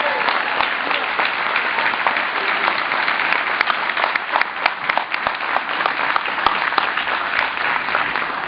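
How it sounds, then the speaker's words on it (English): Sustained applause from an audience at a high school football ceremony honouring the booster club, dense and even clapping throughout with a few sharper individual claps standing out, fairly loud and close. "You would give them a round of applause for all they did."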